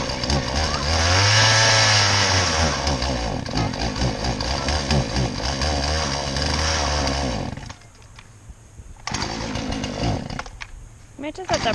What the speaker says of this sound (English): How long does it take to start a chainsaw?